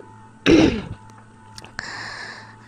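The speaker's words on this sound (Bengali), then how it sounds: "আজকে কাশি হয়েছে" A single sharp cough, brought on by chili fumes from making chili mash, bursts out close by, followed by quiet room noise and a faint clatter.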